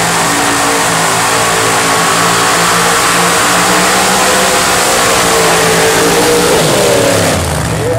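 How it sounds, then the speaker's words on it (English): A drag racing car does a big burnout at a Cedar Falls, Iowa strip in 2009, its engine roaring loud and sustained at high revs for the whole stretch before easing slightly at the very end. "That's one of the highlights of drag racing. The big burnout."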